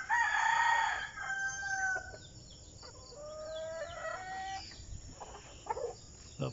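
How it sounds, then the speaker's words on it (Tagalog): Backyard chickens cluck and a rooster crows loudly nearby, with drawn-out calls early on and softer clucking and scattered bird sounds after. "Ang mga alagang manok."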